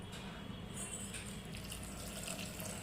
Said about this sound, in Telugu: వాటర్ పోయి నీళ్ళు ఏడాకా మునిగేట్టుగా పోయి.